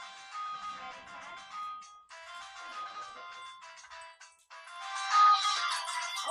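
A phone ringtone plays a bright, repeating electronic melody in several phrases, growing louder toward the end, with nothing else around it.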